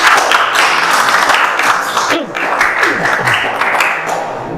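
A classroom group claps for the first presenting group, a dense, steady wash of applause from many hands with voices mixed in.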